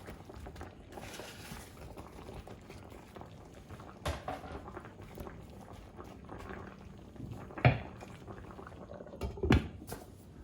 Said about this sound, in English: let it simmer for a few more minutes